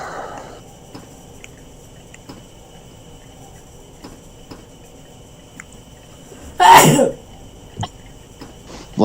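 A single sharp human sneeze bursts out once partway through, loud and close against a quiet indoor room with faint ticking in the background.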